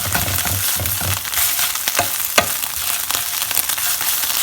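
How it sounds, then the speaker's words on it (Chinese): Egg frying in oil in a pan on a home stove, a steady close sizzle that runs without a break, with a few sharp clicks and scrapes from stirring or turning over the crackle. "好，现在呢，把鸡蛋煎好，这颜色要黄黄的，"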